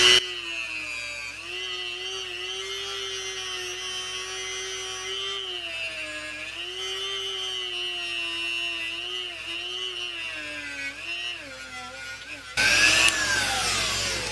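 A power tool with a polishing kit buffs a gun barrel's ejection port, making a loud, steady high whine that wavers in pitch as the load changes, then ends with a sudden burst of harsher noise.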